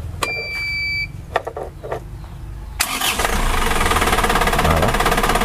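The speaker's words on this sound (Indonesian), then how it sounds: "sekarang kita coba kita hidupkan dulu seperti apa suaranya" An Isuzu Traga engine, torque-tuned, cranks with a few clicks and whirs, then catches and settles into a steady, loud, close idle; a high electronic beep sounds briefly before the start.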